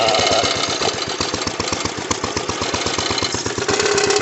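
A small lawnmower engine fitted to a 1937 International tractor runs steadily close by, with a fast, even chugging firing rhythm throughout and no talking.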